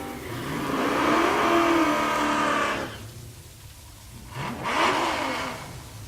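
Naturally aspirated small-block drag race cars launch side by side at a Tulsa drag strip, a loud sustained roar that fades out, then a second burst of engine noise surges up near the end.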